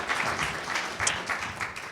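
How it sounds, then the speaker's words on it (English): Steady applause from a crowd at a business leadership talk fills the room, dense clapping continuing without pause at an even level. "Can we have a big round of applause, please, for Jim?"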